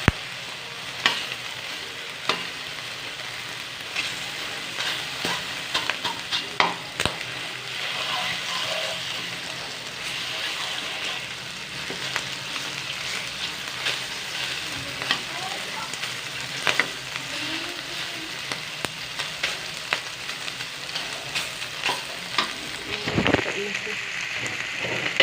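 Onion, garlic and ginger sauté in hot oil for pork adobo, a steady close sizzle punctuated by repeated clicks and scrapes of stirring, with occasional talk over it.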